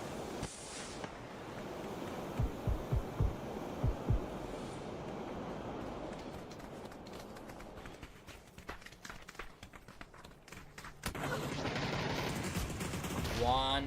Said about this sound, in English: shots in the back by Potentially Dangerous